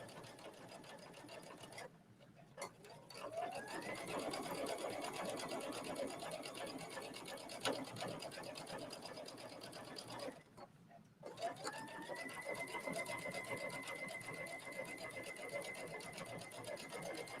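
A sewing machine runs a triple stitch on a trench coat collar, a steady close whirring that stops twice for a moment and then climbs back up to speed.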